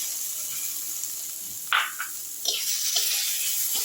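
Spices fry with tomato and green chili in a single pot of dal with vegetables, making a continuous bright hiss with a few louder bursts of stirring toward the middle and end.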